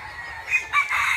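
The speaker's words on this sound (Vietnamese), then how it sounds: "Bữa nay quay mấy gà con thả lan cho anh em coi" Young free-range chickens about three months old on a poultry farm, clucking and crowing in a busy chorus with several rooster-like calls rising over a steady low farmyard murmur.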